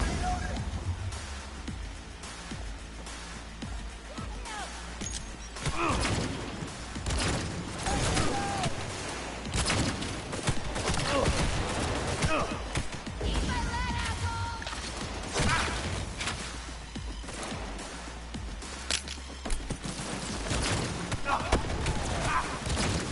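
Gunfire in a video game, the XIII level "Plains, Trains, and Mobile Homes", sounds as dense, continuous bursts of shots and crashing impacts layered under steady game sound and voices for the whole stretch.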